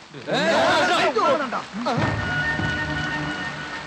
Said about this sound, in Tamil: மழை வேற அதிகமாகுது